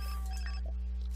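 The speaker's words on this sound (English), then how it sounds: "Phone's ringing." A phone rings in The Sims 4 life-simulation game, short bright electronic ringing tones over a steady low hum, with no one talking.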